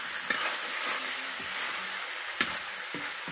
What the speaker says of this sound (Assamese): আৰু এনেকৈ লৰাই লৰাই সিজাই সিজাই ঢাকি ঢাকি সিজাই থাকিম।